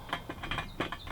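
Nuts being snugged onto studs while fitting a replacement bathroom exhaust fan motor: a few short, faint metallic ratcheting clicks in quick irregular bursts, close by with no talking.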